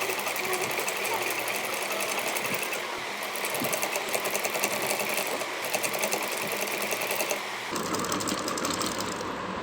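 An electric sewing machine stitches a trim strip onto a small dhoti, running in rapid bursts with brief pauses between them, close and clear while someone talks over it.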